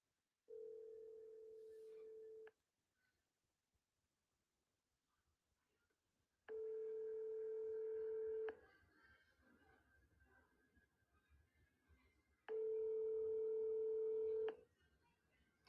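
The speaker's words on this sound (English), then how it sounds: "Now listen to where this phone number goes to when you call this childcare center." Telephone call to a childcare center in Minneapolis, Minnesota: a dial tone, then two long ringback tones separated by quiet gaps, clear and alone with no talking.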